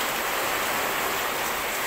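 Heavy rain pours steadily during Typhoon Ulysses, a dense, even hiss of drops with no pauses, close and fairly loud.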